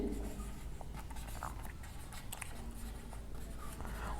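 Pen scratching steadily on paper while an answer is written out by hand in an accounting exercise, a continuous close scribbling with a low hum underneath and no talk.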